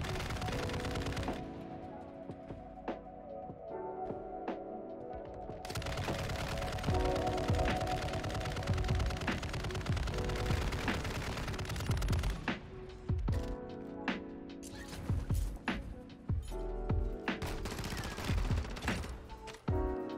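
Loud gunfire in Warzone 2 DMZ as a juggernaut is killed: repeated bursts of rapid automatic shots separated by brief pauses, with mechanical clatter in between.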